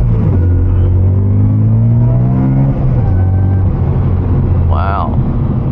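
A 2011 BMW M3 engine pulls under power from inside the cabin, a loud low drone that rises steadily in pitch, then drops back after a shift and climbs again, with a brief talking voice near the end.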